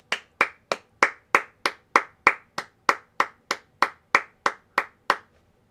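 Clapping during a football game: about sixteen crisp, evenly spaced hand claps, close and steady, then stopping.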